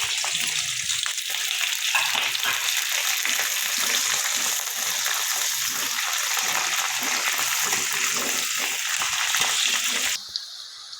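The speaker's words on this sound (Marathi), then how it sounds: "त्यात लगेच शेंगदाणे टाकून घेऊ, कारण शेंगदाणे खमंग भाजले पाहिजे खिचडीत." Peanuts roast in hot oil with onion in a pan for khichdi, giving a loud, steady sizzle and crackle that runs for about ten seconds with faint stirring.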